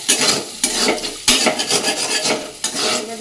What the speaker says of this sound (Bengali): সয়াবিন আর আলুটা দেখো ভাজা ভাজা হয়ে গেছে